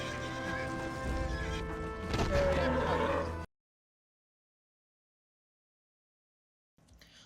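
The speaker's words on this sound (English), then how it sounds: "Even your trusty horse does not shy away from combat, as you can ram and trample your enemies using a 4-legged demon." A horse whinnies in the Wild West video game Gun, a loud drawn-out neigh over game music and hoof clatter, then the sound cuts to silence before faint noise returns.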